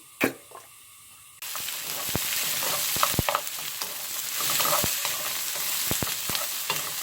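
Vegetables for japchae stir-fried in hot oil, starting with a brief quiet stretch, then a steady loud sizzle broken by repeated sharp scrapes and knocks of the spatula against the pan, with no talking.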